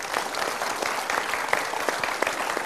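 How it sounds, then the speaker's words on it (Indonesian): A studio audience on a televised talk show applauds continuously. The dense, even clapping fills the whole stretch and no one talks over it. "Terima kasih, kita berikan tepuk tangan."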